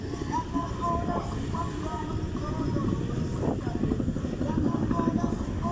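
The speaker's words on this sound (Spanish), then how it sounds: "El helicóptero sigue pues dándole vueltas a la marcha." A helicopter circles overhead during an indigenous march through Cali, its steady broadband rotor rumble filling the whole stretch amid crowd noise.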